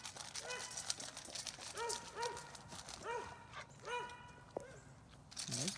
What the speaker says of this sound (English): And Sparkles, they're all really good dogs.